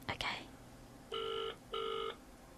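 Two evenly spaced bursts of a telephone ringback or dial tone, each about half a second, heard after a brief clatter at the start. Moderately loud and clean, with no talk over the tones.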